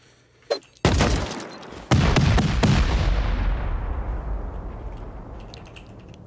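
C4 explosive charges detonating during a base raid in the game Rust: two loud booming blasts, a small pop and then a heavy explosion followed by a second, each leaving a long rumbling decay.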